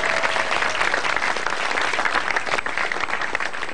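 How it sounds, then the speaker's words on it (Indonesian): A stand-up comedy audience claps and cheers in a steady, dense burst of applause that stays at an even level throughout, with no one speaking over it. "Tepuk tangan dulu dong"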